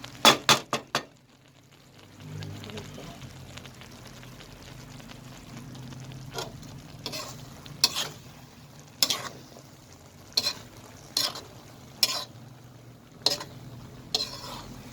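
Pansit noodles with dried fish are stirred in a pan, a spatula scraping and clinking sharply against the metal in a string of distinct strokes over a low, faint sizzle.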